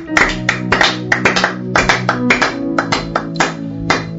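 A church congregation at a Saturday prayer and fasting service claps in praise of the Lord, a brisk, loud, rhythmic run of hand claps in a roughly steady beat.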